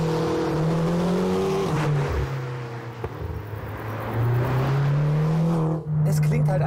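Cabin of a McLaren GT with its 620 hp twin-turbo engine pulling hard, a loud steady drone rising in pitch, dipping briefly, then surging again under throttle, heard from inside the car without talk.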